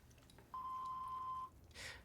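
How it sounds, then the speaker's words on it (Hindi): A single steady electronic answering-machine beep lasting about a second, clear and close, followed by a brief soft breathy rush. "कृपया बीप के बाद अपना मैसेज छोड़ें।"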